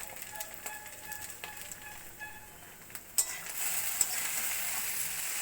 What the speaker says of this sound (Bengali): ম্যাগি মশলা দিয়ে আমি একটু নাড়িয়ে চাড়িয়ে নেব।